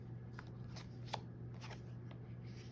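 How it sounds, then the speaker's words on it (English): A deck of tarot cards is cut and shuffled, giving soft, quick flicks and light card slaps over a low steady hum, quiet and close, with no talk. "Spirit's not throwing anything out at me, so I'm just going to cut the deck."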